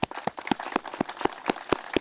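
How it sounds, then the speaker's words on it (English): Applause for an Honor Guard at a Gold Star Families memorial dedication ceremony, thin and fairly distant, with a few hands clapping in a loose, regular rhythm and sharp individual claps standing out. "About a round of applause for our Honor Guard."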